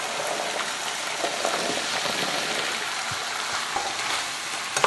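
Beef stir fry with sweet potato sizzling and frying in a pan while being stirred, a steady close crackle with brief scraping knocks from the stirring utensil.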